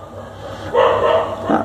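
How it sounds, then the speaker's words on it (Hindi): A dog barks nearby in two or three loud, abrupt bursts over a low background hum, with no talking at that moment. "ये कुत्ता भौंक रहा है"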